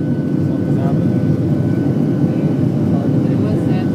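Airliner engines climbing during a go-around on a Seattle to Oakland flight, heard from inside the cabin as a loud, steady broadband roar that holds level throughout.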